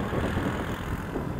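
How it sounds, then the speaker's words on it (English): Strong wind buffets the microphone outdoors during an Eachine Pioneer E350 GPS quadcopter flight, a dense, steady low roar with gusty fluctuations and no speech. "It is very, very windy."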